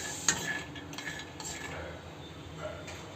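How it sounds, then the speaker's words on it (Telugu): Almonds roast on low flame in a pan and are stirred. A spoon scrapes and clinks against the metal in irregular strokes over a soft, steady background hiss, close and moderate in level. "ఇప్పుడైతే బాదం యాడ్ చేసుకుందాం. ఇలా మంచిగా లో ఫ్లేమ్లోనే రోస్ట్ చేసుకోవాలండి."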